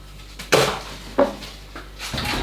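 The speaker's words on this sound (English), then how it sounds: "So I'm going to crack each one into a cup first because we don't want any shells" Eggs cracked one at a time into a cup for a slow cooker tea loaf: two sharp, close taps a moment apart, then softer knocks and a faint clink as shells break against the rim.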